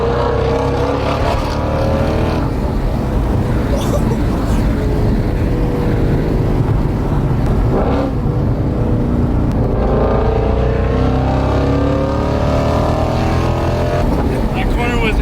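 A 2016 Ford Mustang 5.0 fitted with a Corsa exhaust revs and pulls hard, its engine tone rising and falling in long sweeps, loud and close, with people talking over the roar.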